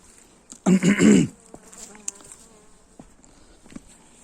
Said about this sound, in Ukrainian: Бачиш, бджола прилетіла.